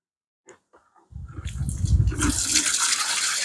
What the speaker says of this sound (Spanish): le boto el agua